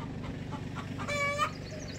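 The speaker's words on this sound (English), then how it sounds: "Here's Eleanor under the chicken coop." Backyard chickens cluck and call softly under a chicken coop, with one clearer, brief rising call in the middle, all heard against a steady low background hum.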